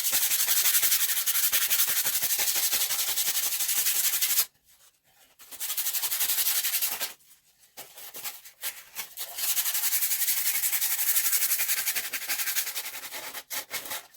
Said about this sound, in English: So you're going to scrub off some of the white, and you're going to see the other colors.